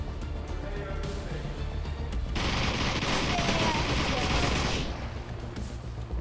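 Sustained rapid gunfire from the VR John Wick Simulator game, a dense loud burst of shots lasting a few seconds over steady background noise.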